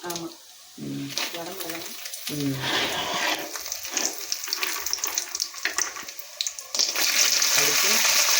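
Urad dal and chana dal frying in hot oil for ridge gourd chutney, a soft steady sizzle with faint stirring that grows louder toward the end, while two people talk over it.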